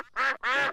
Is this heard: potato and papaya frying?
no